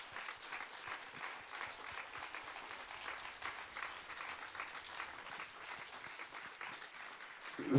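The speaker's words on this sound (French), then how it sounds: "On peut applaudir les artistes. Vous pouvez vous applaudir également." A concert audience applauds at a music showcase, a steady wash of many hands clapping at moderate distance that carries on without a break.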